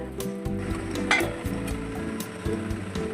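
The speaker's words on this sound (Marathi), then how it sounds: "आता मी याला झाकणाला 5-10 मिनिटासाठी वाफेवर शिजवून घेणार" Ridge gourd sabzi cooks in a covered pan, giving a continuous soft sizzle and bubbling with steady low hum underneath, occasionally punctuated by faint knocks and clicks, close and without voices.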